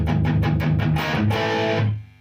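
A heavily distorted electric guitar through a Marshall 2525H amp, master volume at 6, plays rhythmic chugging strokes, then rings out in a sustained chord before fading. Loud and close, no talking.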